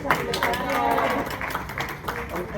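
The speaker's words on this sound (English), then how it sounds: "And a round of applause to their two." Applause from a convention audience thanking a panel, steady clapping over about three seconds with voices talking over it.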